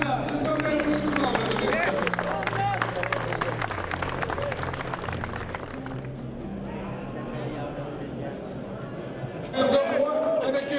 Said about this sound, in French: C'est un bel applaudissement.